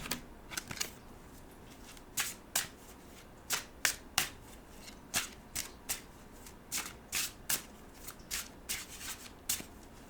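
Oracle cards being shuffled by hand for a reading, a run of crisp riffling bursts in an uneven rhythm, close and clear with no talk.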